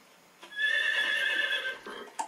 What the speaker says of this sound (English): There's a horse neighing?